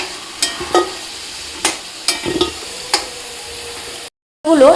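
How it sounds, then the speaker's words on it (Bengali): Potatoes with salt frying in a pan: a light background sizzle punctuated by several sharp scrapes and taps of a spatula, close and fairly loud, then a brief cut before a final clatter. "লবণ দিয়ে আলুগুলো ভেজে নেব।"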